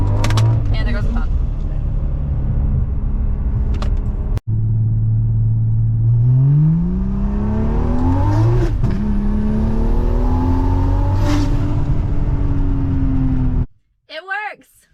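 A BMW N55 engine fitted with port injection and a big turbo starts and runs, its fuel pump priming first, then a loud steady rumble with rising revs that holds for over ten seconds before cutting off abruptly.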